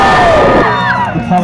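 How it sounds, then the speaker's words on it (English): A crowd at a children's show cheers loudly for a child dressed as a wasp, a brief burst of shouts and whoops rising together and quickly fading. "can we give a big cheer to Matthew the wasp?"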